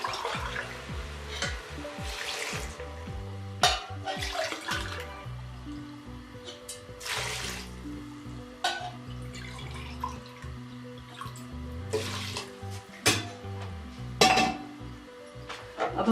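Water is poured from a glass into a pot of mutton tripe and spices, with splashing pours, metallic clinks and knocks of the vessel, and dripping in uneven bursts, close up with no talking.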